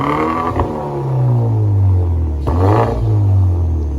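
A car with a loud aftermarket exhaust revs hard at a shop, close up, with two long rising-and-falling revs separated by a brief throttle blip, deep and booming.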